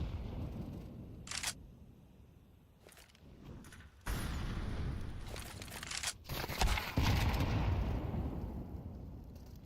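Loud blasts and bursts of gunfire in a competitive Counter-Strike-style shooter match, including a frag grenade thrown through smoke, with several sharp cracks early on, then a sustained roaring wash of explosions and shots that stays dense and heavy to the end.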